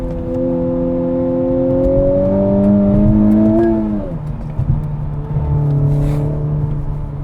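A 2020 Honda Civic Type R accelerating hard, its engine note climbing loud and close, then dropping sharply at a gear change before pulling again with a steady drone.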